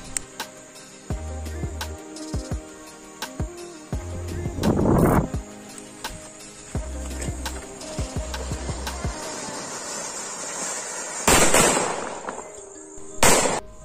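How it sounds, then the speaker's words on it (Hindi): An anar fountain firework combined with a paper bomb firecracker: intermittent hissing sprays and crackling, with a few sharp pops and two louder bursts near the middle and end, heard outdoors with no talk. "नेक्स्ट हम चलाएंगे ये अनार प्लस बम पेपर बम।"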